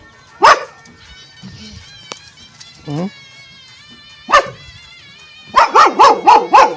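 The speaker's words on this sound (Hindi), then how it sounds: "ये दूसरा कुत्ता बड़े वाला" A large hunting-breed dog barks outdoors at a village home, with single loud barks spaced apart and then a quick run of several barks at the end, close and clear, with some voices in between.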